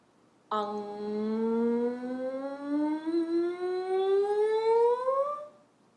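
A single voice imitates a siren, sliding steadily upward in pitch for about five seconds, sustained and fairly loud, with no talking.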